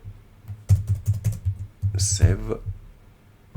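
Rapid keystrokes on a computer keyboard tapped out in short bursts, close and fairly loud, with a brief stretch of speech breaking in near the middle.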